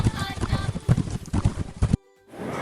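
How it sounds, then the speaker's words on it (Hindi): Horse hooves clip-clop in a quick, steady rhythm of close, loud thuds for about two seconds, then stop, leaving a faint rushing noise. "घोड़ा आया टपा टप, घोड़ा आया टपा"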